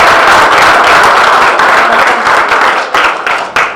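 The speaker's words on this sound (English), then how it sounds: "just a round of applause for Effie and Joe" An audience at a chamber of commerce officer installation gives a round of applause, dense loud clapping that fills the room and tapers slightly toward the end.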